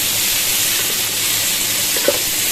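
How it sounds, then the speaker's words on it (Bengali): Potatoes frying in a hot pan while being stirred, a steady bright sizzle with a few soft scraping knocks from the stirring, close and continuous, no talking. "এবার এটাকে ভালো করে আমি নাড়াচাড়া করে একটু ভাজা ভাজা করে নেব"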